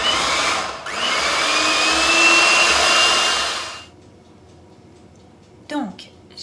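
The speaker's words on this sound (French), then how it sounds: "je vais maintenant refroidir la préparation en fouettant avec mon batteur" An electric hand mixer whisks a thickening crème brûlée preparation off a bain-marie. It gives a steady, loud whirring hum with a slight pitch drift for about four seconds and then cuts off. A brief clink follows near the end.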